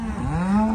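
A dairy cow on an Irish farm lets out a single drawn-out moo, low and close, with a rising, sustained tone and a slight buzz, heard alone without talk.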